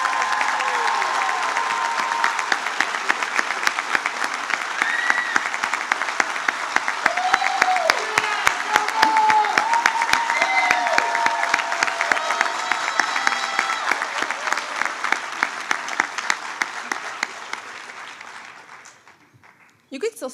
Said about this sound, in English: give this group of amazing students a roaring round of applause